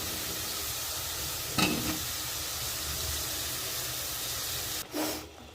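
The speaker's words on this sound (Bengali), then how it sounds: "এখন আমি বেগুনগুলো দিয়ে দিচ্ছি।" Eggplant pieces go into a cooked-down spiced masala for a prawn and tomato curry, giving a steady close sizzle and hiss with two brief louder stirring bursts, no talking.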